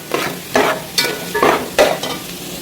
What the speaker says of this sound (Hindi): चीनी और किशमिश डालने के बाद इसको जो है हमने 1 मिनट के लिए और भून लेना है अच्छे से।